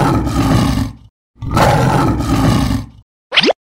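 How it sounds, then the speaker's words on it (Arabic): A lion roars twice, each roar a deep, loud, rough bellow about a second long with a short gap between them, followed by a brief sharp plop at the end. "زئير الأسد."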